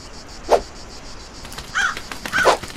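A crow in the video game Die Young gives three harsh caws, one sharp call followed by two louder ones close together, over a faint ambient background.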